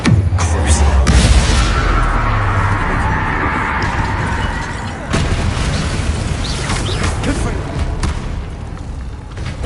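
Bombarda spell blast in Hogwarts Legacy, a loud booming explosion with a rumbling tail and a second impact midway, heard with game effects and a voice speaking over it.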